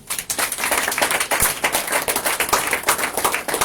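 A church congregation claps together in praise of the Lord, loud and steady rhythmic clapping filling the room, with a few voices mixed into the dense applause.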